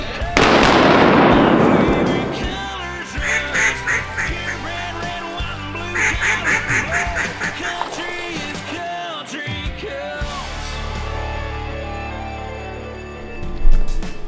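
A shotgun blast sounds during a Louisiana duck hunting opener. A loud shot rings out at the start and decays over a couple of seconds, followed by repeated duck quacks or calls and some voices.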